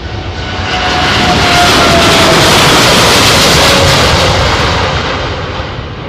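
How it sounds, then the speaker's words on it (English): A Boeing 777-9 jet takes off at the Farnborough airshow with a loud, broad engine roar that swells, holds at full power and then slowly fades. "777-9 airborne to start the show at Farnborough International"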